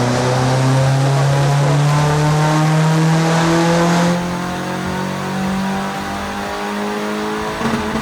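A turbocharged VW Fox screams through a dyno power run, its engine note climbing steadily in pitch for about four seconds, then easing to a lower, steady drone, loud and close with no talking.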